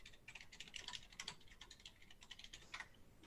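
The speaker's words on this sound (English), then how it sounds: "I got caught typing" Fingers type on a computer keyboard in quick, irregular clusters of light clicks, faint and close, with no speech over it during an online community call.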